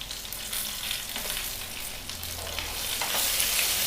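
Dried red chillies and curry leaves fry in hot oil for a chammanthi, giving a steady, close sizzle with light stirring scrapes throughout and no voices.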